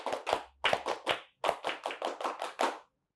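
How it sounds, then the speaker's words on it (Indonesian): A scout-style clapping chant in a Quran reading lesson: about twelve crisp, close hand claps in a quick rhythmic pattern with one short pause, no talk. "Tepuk pramuka."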